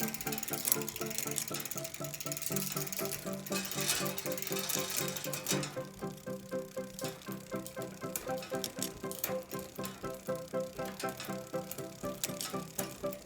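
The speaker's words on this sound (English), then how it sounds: "we're going to make sure it shifts through all the gears" A rear bicycle derailleur shifting through the gears: soft mechanical clicks and whirring, then a fast, even ratchet ticking from the freewheel as the cranks turn. It is close and fairly quiet, with no voices.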